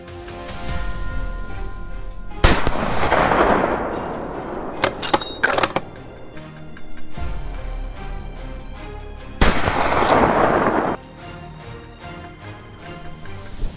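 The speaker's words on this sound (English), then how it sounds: "I gripped the gun tight, locked onto the target, and pulled the trigger. The shot rang out" A hunting gun fires at wild boars in open country, producing about three loud, sharp reports with broad noisy decays, each ringing out for a second or more over a low outdoor background.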